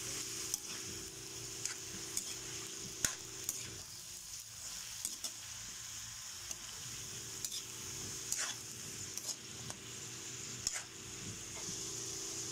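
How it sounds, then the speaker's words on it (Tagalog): Pancit bihon and canton noodles sizzling in a pan as they are stirred, with a steady frying hiss and occasional sharp scrapes and taps of the utensil. "Halo-halo lang natin."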